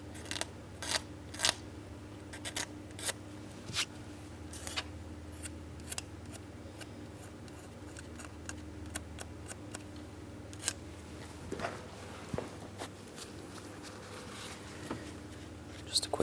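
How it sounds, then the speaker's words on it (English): A plastic flat-blade scraper works around the ignition coil ports of a 3.6L V6 on a 2003-2007 Cadillac CTS, making sharp irregular scratchy clicks over a low background hum, close up with occasional faint speech. "We'll scrape out and away from the ports."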